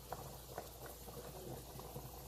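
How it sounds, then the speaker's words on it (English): Chicken feet soup at a full boil in a pot, quiet bubbling and soft popping close by with small irregular blips, faint overall. "once it comes to a full boil, you let it boil like this for about 5 minutes"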